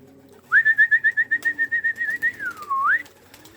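A young racing pigeon at a loft gives a clear whistling call, starting with a rapid pulsing trill and then sliding down and back up, close and alone over a quiet background.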